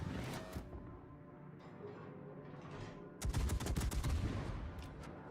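Naval video game heavy cruiser guns firing, a rapid burst of booming shots that starts sharply partway in and rolls on over engine and sea rumble.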